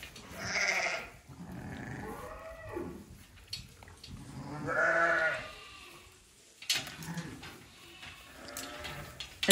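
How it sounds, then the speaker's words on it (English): Sheep bleating at a farm during lambing season while being loaded into a trailer, several loud, wavering calls overlapping at close range, with brief rustling and knocks between them. "So I think we're nearly ready now to get the sheep to run in."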